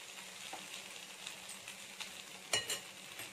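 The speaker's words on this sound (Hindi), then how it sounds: "फिर से फ्राई करूंगी, ऐसे ही पलट पलट के फ्राई करना है चारों तरफ से।" Peri peri chicken pieces fry in a pan, a quiet, steady sizzle with soft crackles and one sharper clatter of a piece being turned near the end.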